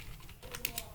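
Fingers tapping on a computer keyboard while typing a search query, a quick run of light, close clicks at low volume.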